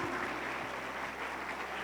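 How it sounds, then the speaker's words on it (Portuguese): Church congregation applauding together, a steady, faint wash of clapping with no pauses. "E se eu fosse você, eu aplaudia novamente o Senhor."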